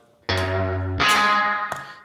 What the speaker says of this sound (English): Awesome sounding tremolo.